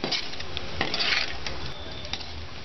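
Spiced potato sabzi is stirred in a pan with a spoon, giving soft scraping clinks and a light sizzle that continue steadily throughout, with no talking.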